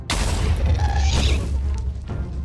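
Ghast firing fireballs in the Minecraft Nether, heard as a loud, booming blast with rumbling low end and brief crackling bursts, followed by a second thump near the end.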